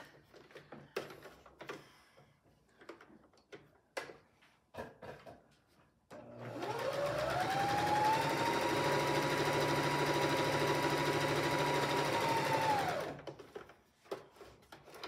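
A sewing machine stitches quilt pieces in one continuous, even whirring run of about seven seconds, framed by quiet fabric rustling and light clicks of handling before and after.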